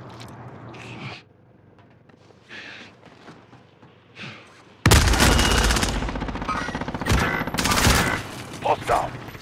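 Bursts of rapid automatic gunfire ring out in Call of Duty: Modern Warfare, loud and close after a quieter stretch with only faint scattered sounds, while people talk over the shooting.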